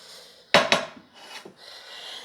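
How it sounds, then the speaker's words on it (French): Frying pan lifted and handled in a kitchen, two sharp knocks of metal on a hard surface followed by light scraping and rattling, close and fairly quiet with no voices. "je vais prendre la poêle"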